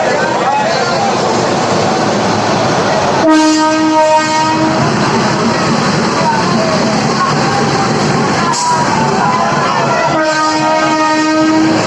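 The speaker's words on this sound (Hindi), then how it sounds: "गया से चलकर जबलपुर होते हुए यह special train Balaghat railway station पहुंची" A special train from Gaya via Jabalpur pulls into Balaghat railway station, loud rumbling and clattering wheels with repeated long horn blasts, crowd noise and voices mixed in close by.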